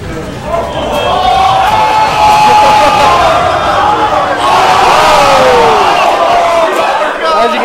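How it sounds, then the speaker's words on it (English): A large crowd roars and cheers loudly and continuously, with shouts and whistles rising out of the dense, sustained noise. "As you can hear, everybody cheering for him."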